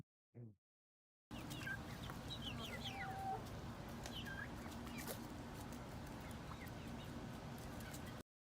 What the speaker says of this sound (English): Who knew we'd be looking at chickens tonight?